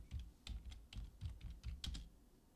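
Brisk typing on a computer keyboard, a continuous string of soft key taps and clacks at a steady pace, fairly quiet and close, with no voices.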